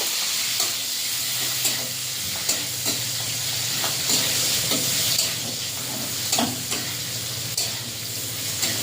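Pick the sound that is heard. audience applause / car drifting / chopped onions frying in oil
chopped onions frying in oil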